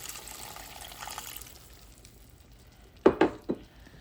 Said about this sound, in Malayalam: ആ തേങ്ങാപ്പാൽ ഇതിലേക്ക് ഒഴിച്ച് കൊടുക്കാം കേട്ടോ.